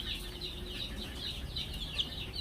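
Rhode Island Red chicks in an incubator give a steady run of high, repeated peeping chirps, close and continuous, with no talk.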